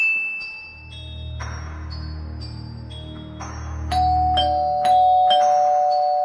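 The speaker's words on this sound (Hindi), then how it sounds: "रॉड गुल्ली बुल्ली का डोरबेल बजाता है।" Several bright doorbell chimes ring out in a quick irregular series, clear and close, over a low steady background hum.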